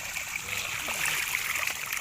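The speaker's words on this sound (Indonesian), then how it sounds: "Jadi kita siram, kita tunggu dengan karpetnya." Water is poured and splashed over a sluice carpet while panning soil for gold at an old dig site. It makes a steady, even rushing and trickling wash that runs continuously and close up, with no voices.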